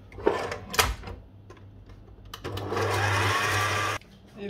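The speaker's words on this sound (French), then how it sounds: "un petit coup donc soit au batteur électrique, soit au robot" An electric mixer whips egg whites with a pinch of salt in a home kitchen, a steady motor whir that rises louder and denser midway, preceded by clattering and knocks of the bowl; close, no talking.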